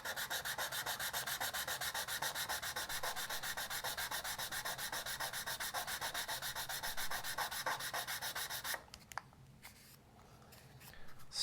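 Rapid, rhythmic back-and-forth rasping of sandpaper on a small plastic model part, close and steady for several seconds before stopping, leaving light handling noises.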